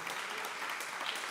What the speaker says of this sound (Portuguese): dá mais uma salva de palmas ao Senhor